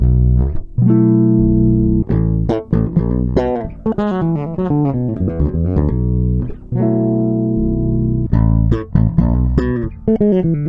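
A Harley Benton BZ-6000 NT six-string bass recorded dry straight into an audio interface, playing a busy line of sustained low notes and quick runs, loud and close, with no voices.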